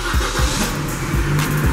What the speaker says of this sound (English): Let me cut the engine on.